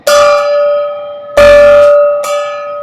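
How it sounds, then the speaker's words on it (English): Home run gong at a Dodgers vs Padres baseball game, struck loudly three times with long ringing, resonant tones that sustain and overlap between strikes. "Home run gong indeed"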